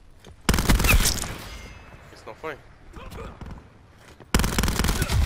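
Call of Duty Black Ops 4 gunfire comes in two loud rapid bursts, one near the start and one at the end, with someone talking excitedly in the quieter middle.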